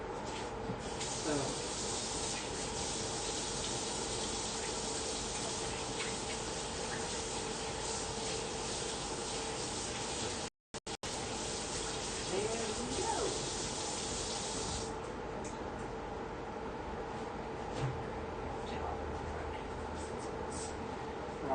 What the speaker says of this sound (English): I'll wash my hands.